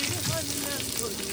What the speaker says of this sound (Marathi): कांदा चांगला परतून घेऊया.